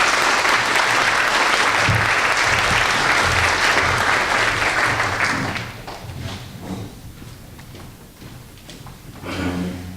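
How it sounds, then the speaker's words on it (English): A crowd at a business school recognition and scholarship reception applauds honoured students, with dense, loud, sustained clapping for about five seconds before it thins out and fades to a few scattered claps. "Would you give each of these students a round of applause?"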